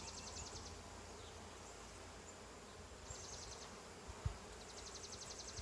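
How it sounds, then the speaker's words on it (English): Honey bees buzz steadily around an open hive during a brood inspection, with a continuous droning hum and a soft thump partway through. "Watch the bee just landed on your foot."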